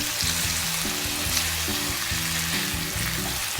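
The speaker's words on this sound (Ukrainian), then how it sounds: "Буквально 3 хвилинки ще просмажую," Steady, dense sizzling of vegetables frying in a pan with chicken gizzards, continuous and fairly loud, with occasional soft stirring scrapes.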